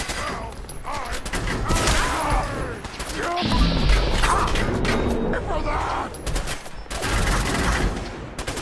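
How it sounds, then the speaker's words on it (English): Gunfire striking the player in Fallout 4 VR: loud, dense bursts of shots and impacts keep coming throughout, mixed with crashes and clatter, while a voice talks over parts of it. "I'm getting shot at more than my armor can handle."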